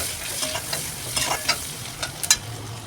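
Onion frying in a pan with garlic paste, curry leaves and green chili for a paneer broccoli pulao, a soft steady sizzle with several sharper spatters and stirring scrapes.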